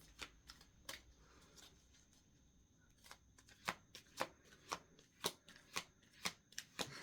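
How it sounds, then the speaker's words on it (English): Sticky tarot cards being shuffled, a run of sharp riffling snaps that starts loose and irregular, then settles into a steady, evenly spaced rhythm, close and fairly quiet with no voices. "These cards are sticky and hard to shuffle"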